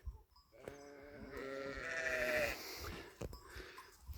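A sheep lets out one long, wavering bleat at close range, framed by quieter rustling and shuffling.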